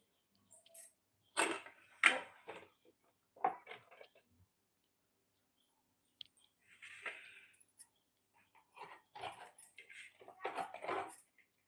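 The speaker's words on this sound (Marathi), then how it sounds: "भांड्यांचा आवाज येतात." Scattered clinks and clatters of pots and utensils in short bursts separated by silence, close and moderately loud.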